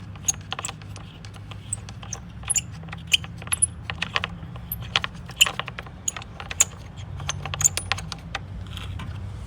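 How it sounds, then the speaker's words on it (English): A 10mm ratcheting combination wrench tightens a car battery hold-down, giving quick, close metallic clicks in irregular bursts over a low background hum. "So we use 10mm up here, 10mm ratcheting combination wrench, and we're going to use a 13"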